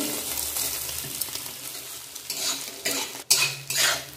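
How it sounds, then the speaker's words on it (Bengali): Egg sizzles in hot oil in a pan for a Bengali home lunch, with a spatula scraping and clinking against the pan in bursts, the loudest sharp scrapes near the end. "ডিমটা ভেজে নেব। পুরো ঝুড়ি ঝুড়ি করে নেব তেলে দেওয়ার জন্য।"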